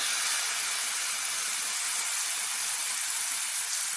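Ground guava paste hits hot ghee in a pan for guava burfi, producing a dense, constant loud hiss and sizzle that carries unchanged for a few seconds with no talking.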